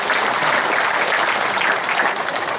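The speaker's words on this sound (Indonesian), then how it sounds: "Tepuk tangan dulu orang Tabanan biasa." An audience bursts into continuous applause for the people of Tabanan, Bali, a thick, steady roar of many clapping hands sustained at full strength with no talk over it.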